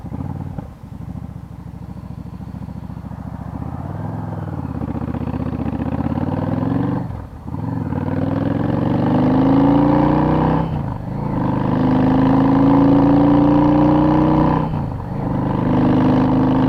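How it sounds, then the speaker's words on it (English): Yamaha V Star motorcycle engine running while riding, developing a misfire at about quarter throttle or more; a loud, steady engine drone rises in pitch through three long pulls, separated by short dips as the throttle eases off, with no talk. "Right there, about quarter throttle or better, starts to miss."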